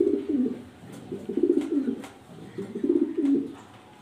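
Maltese pigeons coo in low, throaty, rolling phrases, repeating in three or four close, steady bursts with no talk over them.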